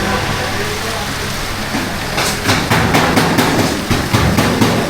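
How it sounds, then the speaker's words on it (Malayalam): Heavy rain during flooding pours down steadily, a dense hiss with sharp patters and knocks growing stronger midway. "ഇപ്പം കൂടി മഴ പവർ കൂടി"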